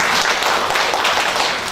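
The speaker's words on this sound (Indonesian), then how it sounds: "tepuk tangan buat semuanya." Loud, dense clapping from a room of women at an Indonesian training session, a short steady burst of applause throughout.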